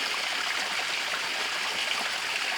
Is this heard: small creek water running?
yes